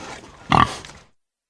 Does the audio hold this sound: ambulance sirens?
no